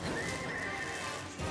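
A horse in the video game Monster Hunter World lets out a loud, drawn-out whinny, with some clip-clop of hooves and game ambience behind it and no speech.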